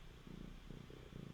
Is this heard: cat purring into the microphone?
yes